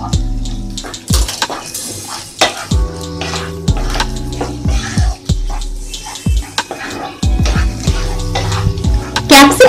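Capsicum and chopped green chili fry in a pan with steady sizzling, punctuated by loud clanks and scrapes of a utensil against the pan close up.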